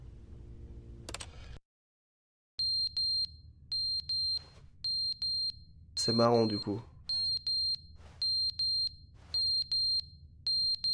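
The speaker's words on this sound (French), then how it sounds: "Il y a l'alarme qui bip." Repeated electronic alarm beeps from The Stanley Parable: Ultra Deluxe sound in short, evenly spaced bursts of high, sharp tones, broken by a brief silence and a burst of game noise, with a voice talking now and then.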